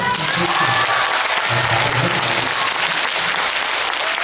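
Loud, continuous audience applause at a live outdoor performance, thick and steady throughout with scattered cheers mixed in.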